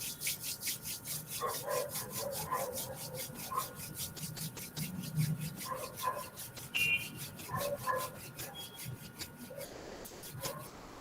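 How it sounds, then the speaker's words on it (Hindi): Both hands rubbed together vigorously in a rapid, rhythmic run of close, soft friction strokes, with faint murmuring tones underneath. "अपने दोनों हाथों को जोर से रब करें।"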